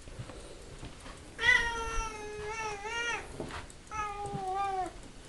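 A pet cat meows twice at close range, a drawn-out call followed by a shorter one after a brief pause, over a quiet indoor background.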